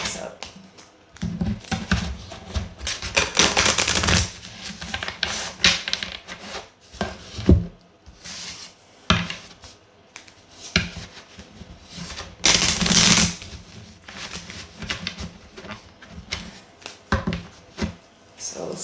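Tarot cards are shuffled by hand in bursts of rustling, riffling and soft tapping against a surface, close and moderately loud, with a voice speaking intermittently around the shuffling.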